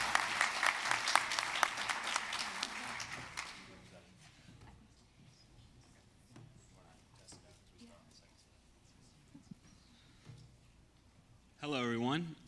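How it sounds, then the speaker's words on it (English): Audience applauds student presenters at a space-station education event, a loud burst of clapping in the first few seconds that fades into quiet room noise, then a brief muffled voice near the end. "So let's give them a round of applause."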